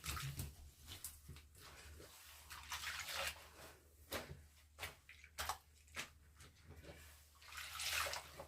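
A wig being swished by hand through soapy shampoo water in a basin, giving soft, repeated sloshing and splashing surges at close range with no talking.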